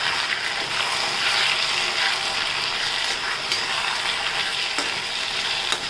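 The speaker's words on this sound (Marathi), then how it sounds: "आता आपण हलवून घेऊया।" Vegetable hakka noodles sizzle and fry in a hot pan while being stirred, a steady close hiss with occasional scraping clicks of the spoon, running continuously with no voices.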